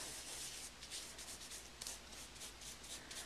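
Glitter rubbed by hand into a lace resist layer, soft scratchy rubbing strokes in a steady back-and-forth rhythm, quiet and close, with no voices.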